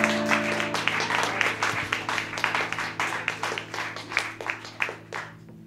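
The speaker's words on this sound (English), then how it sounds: "Another round of applause." Audience applause at a CD release party, a dense burst of many hands clapping that swells and then thins into scattered individual claps, heard in a room over a low steady hum.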